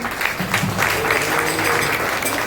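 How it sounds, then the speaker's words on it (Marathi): Audience applause at a kirtan devotional gathering in a Hanuman temple in Shirgaon, a steady dense clapping that fills the clip at a moderate, even level. "ही पोरं लहान यांच्यासाठी टाळ्या वाजवा"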